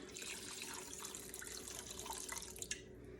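Water poured into a pan of chicken gravy with bouillon, a quiet, steady splashing trickle that runs on for a few seconds before tapering off.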